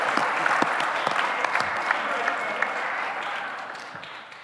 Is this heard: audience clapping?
yes